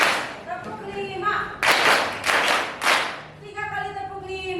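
A roomful of grade 8 students claps in unison, three loud group bursts set apart by chanted counting voices before and after.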